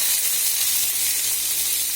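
Hilsa fish frying in hot oil, a steady dense sizzle and hiss that holds at a constant level throughout, close up with no voices.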